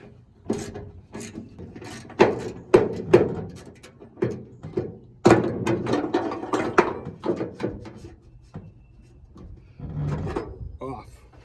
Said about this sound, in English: A 10 millimeter socket will remove this tie down.